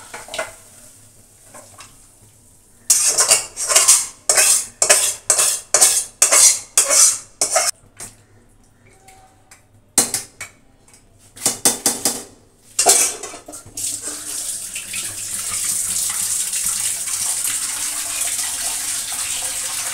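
A metal spoon scrapes and clatters against a pot as cooked ghonto is emptied out: two bursts of rhythmic, loud scraping strokes, then a steady soft rushing hiss.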